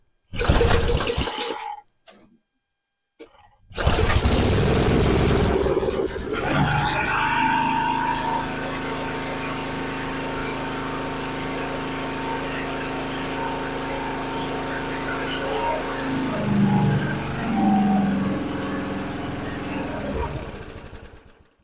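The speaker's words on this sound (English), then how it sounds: "Okay, looks like we're going to have an engine running." A Troy-Bilt 33-inch mulching lawn mower's small engine sputters through brief bursts, goes quiet, then catches and settles into a steady, close, loud running drone with slight surges near the end.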